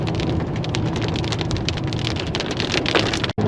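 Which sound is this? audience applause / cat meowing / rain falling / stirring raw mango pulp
rain falling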